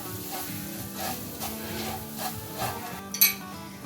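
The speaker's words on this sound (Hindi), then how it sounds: "अब मैदे को इसके साथ भून लें और इसका फ्लेम लो कर दें।" Flour being roasted with spice masala in a pan over a low flame, giving a continuous soft sizzle and scraping stir with a brief sharp clank near the end, close up and without voices.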